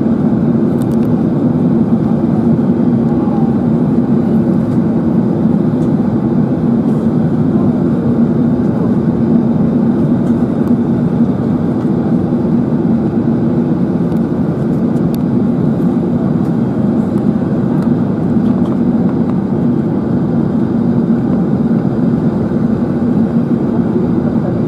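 A British Airways Airbus A380 landing at Frankfurt, heard as a loud, steady broadband engine roar that holds constant throughout with no voices.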